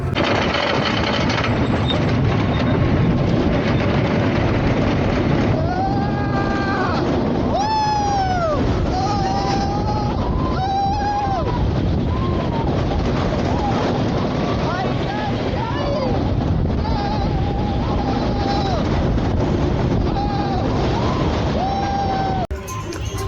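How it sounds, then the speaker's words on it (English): Rickety old wooden Apocalypse roller coaster at Six Flags Magic Mountain, a steady loud rumble and clatter of the train on the track with wind buffeting and riders' screams rising and falling throughout. "Let's ride this rickety old wooden roller coaster and let's have some fun."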